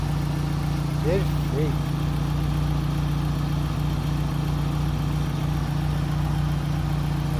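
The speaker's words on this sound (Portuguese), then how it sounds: "Ligando a ventoinha certinho, na hora certa." A 1997 Fiat Palio 8v engine idles with its radiator cooling fan running, giving a steady, close, low mechanical hum with an even whir on top. Someone speaks briefly over it.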